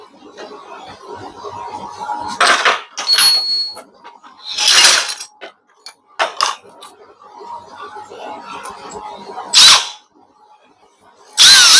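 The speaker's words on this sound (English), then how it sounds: "Now we can drill the locating pins into the" A power drill bores locating pins into metal bushes on a metal lathe auger extension project, several short loud bursts of whirring separated by quieter pauses and small metallic clinks, with occasional brief talk.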